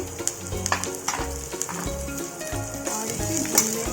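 Ajwain, kalonji and green chilli frying in a pan for a paneer paratha filling, a soft steady sizzle with light scraping and stirring clicks, close and moderately loud, no talking.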